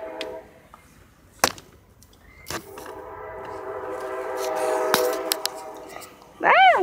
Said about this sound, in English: You know what that means? The train's coming.